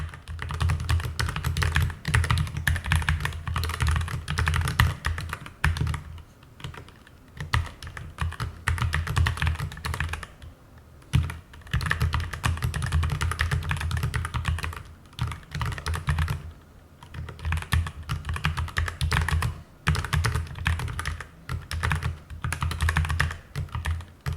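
Rapid mechanical keyboard typing clacks on steadily at close range, with a few brief pauses between bursts of keystrokes.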